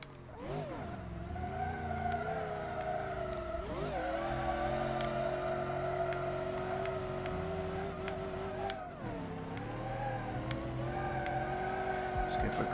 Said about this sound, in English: Just go for a quick skid, rip a few burnies. It is a skid pan after all.